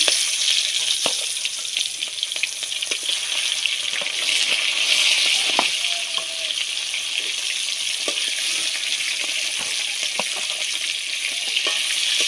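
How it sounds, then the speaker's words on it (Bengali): Rupchanda fish fried in hot oil in a kadai, giving a steady, loud, close sizzle with scattered sharp crackles and pops throughout, and no talking. "তেলটা গরম হয়ে গেছে মাছগুলো ছেড়ে দেবো"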